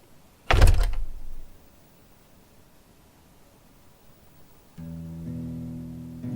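A single loud thunk of a door opening in a visual novel game rings out near the start, then fades into quiet before a low sustained musical tone comes in.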